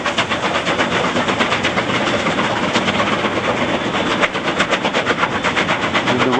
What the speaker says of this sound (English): This is a train going east to west.